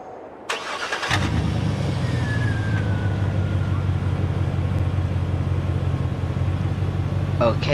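A pickup truck engine in Farming Simulator 22, snowy weather, starts with a short burst and then settles into a steady low idle rumble that holds for several seconds, with a faint whine passing over it.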